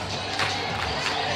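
Crowd and student sections roar at an area high school volleyball playoff game in a gym, a dense, steady wash of cheering voices at moderate level with faint claps.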